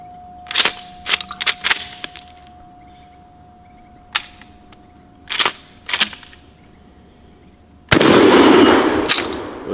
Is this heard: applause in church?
no